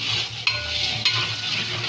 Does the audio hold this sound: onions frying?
yes